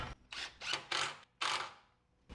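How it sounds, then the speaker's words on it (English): A ratchet runs a 10mm bolt home on a 2015 Jeep JKU suspension, with several short bursts of close clicking separated by brief pauses. "go ahead and reinstall our 10mm bolt and go and run it home."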